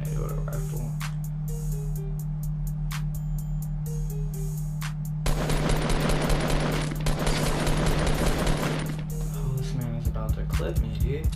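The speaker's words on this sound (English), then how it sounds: "someone got eliminated with a rifle" Rifle gunfire in a Fortnite battle royale match comes as a dense burst of rapid shots lasting a few seconds amid game sounds, with scattered clicks before and after.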